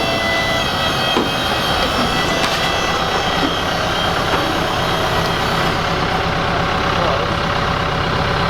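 A heavy-haul truck rig idles loud and close, its steady engine rumble broad and unbroken for the whole stretch, with a faint high whine riding on top.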